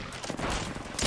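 Gunfire from a distant enemy team in Apex Legends: a quick burst of shots cracking through dense game noise, loudest toward the end.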